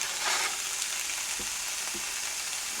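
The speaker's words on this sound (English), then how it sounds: "Oh, there's the sizzle." Bacon strips sizzle in a skillet with a constant hissing, crackling spatter close up, broken by a couple of soft low knocks.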